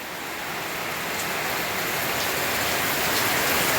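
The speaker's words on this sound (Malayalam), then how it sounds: "സൂപ്പർ മഴ കണ്ടേ." Heavy rain falls steadily in Thrissur, Kerala, a dense, loud, unbroken wash of drops on surfaces that swells slightly louder, with no voices.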